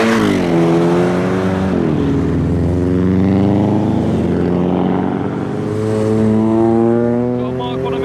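A BMW drives away from the Castle Combe circuit, its engine note rising and shifting through gears as it passes close and loud, with people talking over it.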